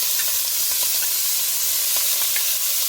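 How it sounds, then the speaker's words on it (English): Onions and bell pepper sautéing in a pan give a loud, constant frying hiss, with faint stirring taps scattered throughout. "So we're gonna saute the onions, the bell pepper, and now we're gonna add the SC"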